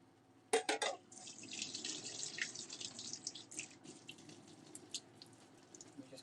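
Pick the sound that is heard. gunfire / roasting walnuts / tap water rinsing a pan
tap water rinsing a pan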